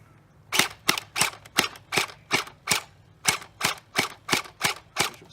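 A V3N0M G36 gel blaster fires semi-auto, a dozen crisp snapping shots at a steady, even pace, close and fairly loud with nothing else heard.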